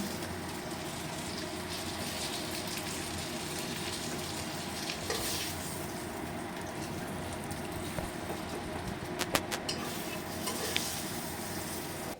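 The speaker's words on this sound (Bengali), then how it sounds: "এরপরে ফুটে উঠলে আমি কোরাল মাছের মাথাগুলো আলুর মধ্যে দিয়ে দিলাম" Coral fish heads simmering in a bubbling potato curry, a steady close sizzle and bubbling hiss with a few small clinks near the end, no talking.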